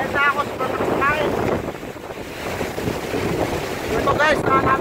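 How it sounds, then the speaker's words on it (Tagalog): Super Typhoon Rolly roars in Quezon Province, a constant loud buffeting wind battering the microphone, with someone shouting briefly over the gusts. "Ito guys, napakalakas na lang hangin dito."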